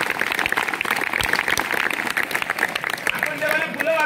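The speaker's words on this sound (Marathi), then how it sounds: "टाळ्या वाजवण्याचं वाक्य आहे" Audience applause fills a college hall during a motivational talk, a dense steady wash of many hands clapping that runs the whole time at close, loud level, with crowd murmur mixed in.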